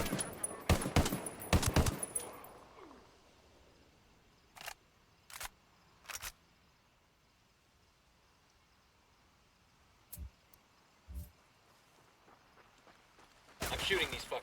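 Gunfire in the video game Ghost Recon Wildlands: a quick burst of shots at the start, then scattered single distant shots spaced seconds apart, ending with another loud burst.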